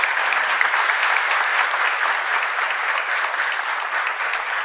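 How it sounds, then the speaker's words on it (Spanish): A congregation at a Catholic Mass in a chapel bursts into sustained, dense applause, many hands clapping together at a steady loud level that tapers only slightly over several seconds. "un fuerte aplauso para Luis desde el cielo"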